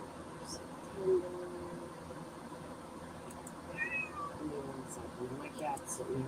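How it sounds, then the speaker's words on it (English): A house cat meows indoors, a couple of short, fairly faint calls over a quiet background hiss, with a person speaking softly nearby. "My cat's sitting there."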